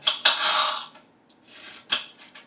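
A kitchen knife cuts through an onion half on a cutting board, giving a few close, crisp chops and taps with short pauses between them.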